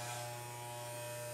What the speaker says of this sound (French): Marco est en train de couper les cheveux à Anthony